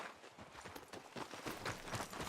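Horse hooves clip-clopping at a steady walk in the Red Dead Redemption video game, a continuous faint rhythmic clatter with no talk over it.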